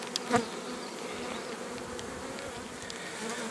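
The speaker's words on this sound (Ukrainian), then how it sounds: "в цьому ящику теж є бджоли" Steady low buzzing of many bees around a hive, with a brief louder buzz as one flies close early on; no voices.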